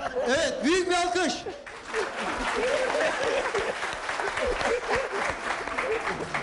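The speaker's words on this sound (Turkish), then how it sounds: "büyük bir alkış" An audience at a traditional Turkish orta oyunu folk theatre performance by a Çankırı yaren troupe breaks into loud, sustained applause, mixed with crowd noise and voices, building after a brief burst of speech and continuing steadily to the end.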